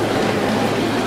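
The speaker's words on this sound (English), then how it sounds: "Moving in the metro." Mexico City metro train on line one, a steady loud rushing roar of the carriage in motion, continuous and unbroken with a low hum beneath.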